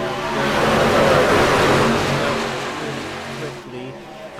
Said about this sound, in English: The trucks are very, very loud in my ear